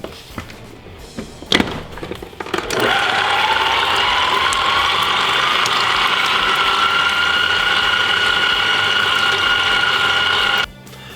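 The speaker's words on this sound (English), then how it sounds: "in our stand mixer, we're going to go in with our butter. We're going to just give this a mix for about a minute" Stand mixer mixing butter: a thump, then the motor starts and holds a loud, steady whir with a mechanical hum for about eight seconds before stopping abruptly.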